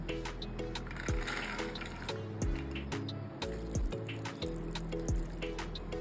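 Water trickles and drips into a pot of soaked, washed kidney beans for boiling, a faint fill with intermittent gurgling pours and splashes.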